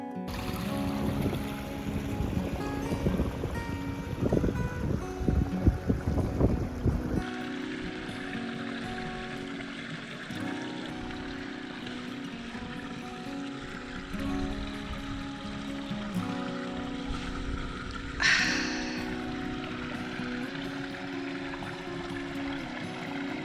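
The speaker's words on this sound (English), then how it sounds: "This is Hardknott Ghyll, dramatic, fast flowing and impossible to ignore on the way to our lodge" Hardknott Ghyll, a fast-flowing mountain stream in the Lake District, rushes in a continuous broadband wash of water, close by and steady. A brief splash or knock cuts through near the end.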